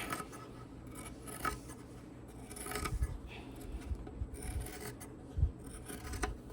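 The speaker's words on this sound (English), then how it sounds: "And get my scissors. I'm gonna leave a little bit going around. Trim them out." Scissors trimming around machine-embroidered minky fabric on a snowman project, with quiet snips, rasps and rubbing at an irregular pace, close by and faint, with no one talking.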